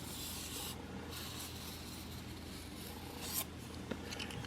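A single-bevel Sirius Evolution 2.0 knife rasps in quiet, steady strokes across a coarse 200 grit whetstone.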